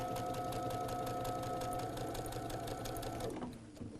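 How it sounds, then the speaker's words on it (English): A sewing machine stitches diagonally across a quilt block with a rapid, steady mechanical whirr and needle clatter that runs continuously, then winds down and stops near the end. "we can stitch just diagonally right across the block"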